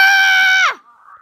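A person screams loudly and shrilly at a Hatchimal toy in one sustained, strained cry of about 0.7 seconds that breaks off into a faint, quieter voiced tail.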